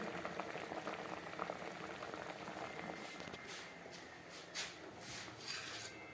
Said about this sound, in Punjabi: ਇਹ ਪੇਠਾ ਇਸ ਤਰ੍ਹਾਂ ਉਬਾਲ ਕੇ ਇਹਨੂੰ ਆਪਾਂ ਚੰਗੀ ਤਰ੍ਹਾਂ ਭੁੰਨ ਲਾਂਗੇ